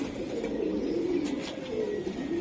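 A young pigeon cooing with a soft, steady low burble close by, continuous and without speech.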